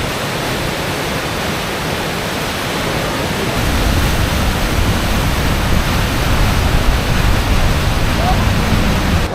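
Rushing water of Huka Falls on the river at Taupo, a steady loud broadband roar that swells fuller about a third of the way through and holds constant without a break.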